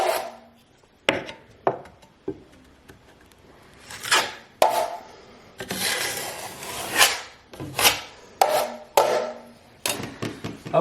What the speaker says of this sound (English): just scrape off any little high spots